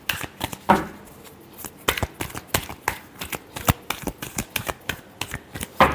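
Tarot cards are shuffled by hand at close range in a quick run of crisp riffling bursts and soft slaps, continuing for several seconds with no talking.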